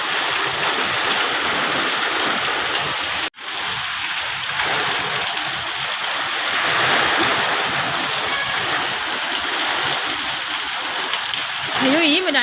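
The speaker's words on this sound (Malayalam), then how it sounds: "മഴയായിട്ട് ഇടയ്ക്കിടയ്ക്ക് ഇങ്ങനെ കാറ്റടിക്കുന്നുണ്ട്" A strong wind and rain storm, with heavy rain pouring in a dense continuous roar and gusts of wind, close and loud, broken by one brief dropout.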